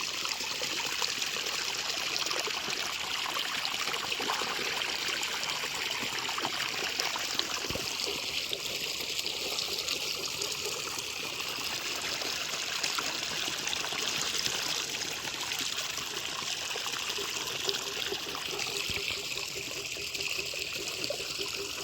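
Steady stream of jeevamrutham liquid fertilizer pouring and trickling into a flooded rice paddy, continuous and fairly even throughout, with outdoor ambience and no talking.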